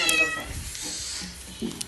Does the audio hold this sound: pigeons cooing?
no